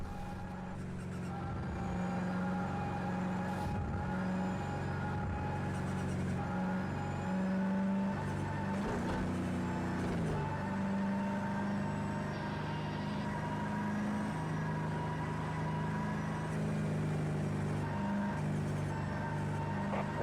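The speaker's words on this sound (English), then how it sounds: "I was driving a 64 Corvette" A 1964 Corvette engine drones steadily through a race at Daytona in a racing video game, a continuous mid-level hum with slight pitch shifts as the car holds speed, no talking over it.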